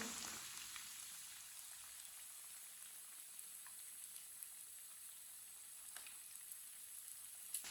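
Chicken kebabs frying in a pan: a faint, steady hiss of sizzling oil that continues without a break, heard alone and without speech.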